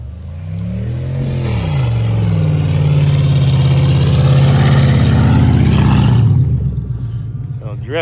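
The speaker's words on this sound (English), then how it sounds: "A little drifting, a little racing." A car engine revs while drifting and racing, rising from a rumbling idle into a loud, sustained high-rev roar that drops away near the end, with voices heard over it.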